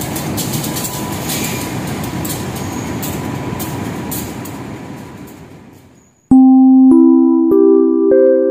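The Argo Wilis executive-class passenger train rumbles steadily along the rails, the noise fading over several seconds before a loud multi-tone onboard chime rings out.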